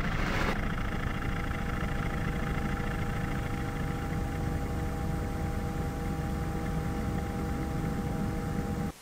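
Robinson R-44 helicopter engine and rotors during a pickup into a hover: a loud, steady, droning whine with a continuous broadband rush, unbroken for the whole stretch and heard close up from the cabin.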